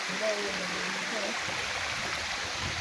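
A river flows steadily, its even rushing hiss filling the whole stretch up close, with faint voices barely surfacing early on.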